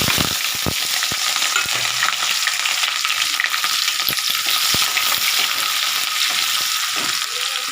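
Peas, potato, capsicum, carrot and cauliflower going into oil with fried chilli and being stirred: a loud, close sizzle with sharp spatula scrapes and clicks scattered through, and no voices.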